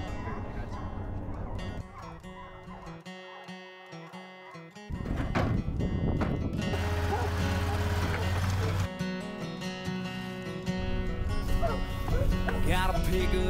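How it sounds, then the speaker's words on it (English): Several hunting hounds in a dog box on a pickup truck bark and bay continuously over music, a loud excited chorus that keeps going without pause. "Got a pickup truck with a dog box, slam full of hounds that don't know when to stop."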